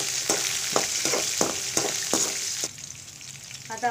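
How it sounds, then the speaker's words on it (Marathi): Curry leaves and green chillies frying in hot oil with cumin, a steady close sizzle broken by several sharp crackling bursts that die down near the end. "आणि कढीपत्ता आणि मिरची हे आपण तेलात परतून घ्यायची."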